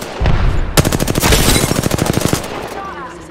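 Rapid automatic gunfire from an Apex Legends match rattles in a loud, close burst of about twenty evenly spaced shots lasting nearly two seconds, then cuts off into quieter game sounds.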